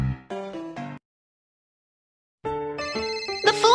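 A cartoon telephone rings with a bright, melodic electronic tune in two bursts separated by a short silence, the second growing busier and higher at its end.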